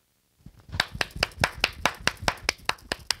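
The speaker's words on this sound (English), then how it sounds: "give yourself a hand clap" One person claps alone in a quick, even rhythm of about a dozen sharp claps, close and clear against a quiet background.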